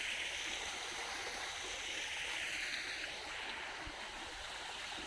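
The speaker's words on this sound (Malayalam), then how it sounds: "വെള്ളം ഇങ്ങനെ വരുന്നുണ്ട് ഇവിടുന്ന് എന്നിട്ട് ഈ വെള്ളം ഇതാ ഇവിടത്തേക്ക് ഇങ്ങനെ പോകുന്നു" Water flows steadily through a stream channel at the Nilambur biodiversity garden, a continuous soft rushing wash with no breaks and no voices.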